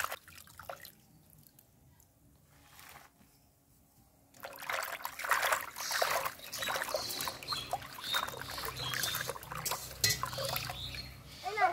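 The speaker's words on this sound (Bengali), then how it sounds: "শাকের ভিতরে না বালি বালি, বালতির মধ্যে এমনভাবে ধুলে ভালোভাবে পরিষ্কার হয়ে যায়।" Leafy greens being swished and rinsed in a bucket of water, faint trickling and splashing that starts quietly and grows busier and louder after a few seconds, close by and continuing in uneven bursts.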